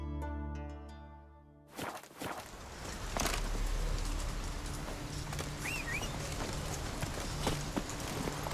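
Horse hooves clip-clopping in the video game The Witcher 3, a steady stream of hoofbeats and ambient outdoor sound following a fading musical passage, with a faint bird call partway through.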